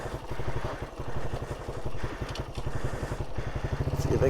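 A tiny lightweight motorbike runs close by with a steady, rapid chugging putter that builds slightly at the end, out on the road near a ghost town in wine country.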